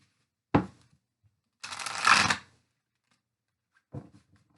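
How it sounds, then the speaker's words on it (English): Tarot cards being shuffled: a single soft tap, then about a second of fast riffling flutter, and a final light tap at the end, close and quiet against silence. "guys, one shuffle."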